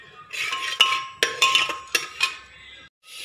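Whole spices with potato and onion drop into hot ghee in a pot, giving several sharp metallic clinks and clatters of utensil on cookware over a soft hiss, close up, with no talking.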